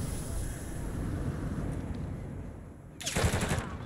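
Gunfire in Call of Duty Warzone, a dense, sustained rumble of rapid shots throughout, then a louder, sharper burst near the end.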